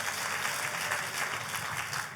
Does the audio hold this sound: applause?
yes